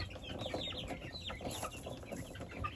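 Wyandotte chickens clucking and murmuring nearby, soft repeated clucks and short calls over faint barnyard background noise.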